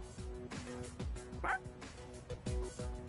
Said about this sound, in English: You're one loyal dog.